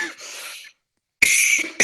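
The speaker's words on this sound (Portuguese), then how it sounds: "A tosse me pegou um pouco aqui," A coughing fit from an adult host during a live online talk on children's sleep, two harsh bursts separated by a silent gap, close and loud with no speech.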